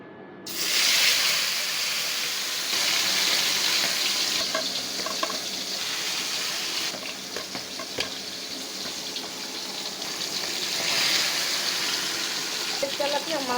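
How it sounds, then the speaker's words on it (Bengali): A large tilapia fish drops into hot oil and bursts into a loud, hissing sizzle that stays strong and steady, with occasional spatters and a few small clicks. "মাছটা আমি এখন ভেজে নেব"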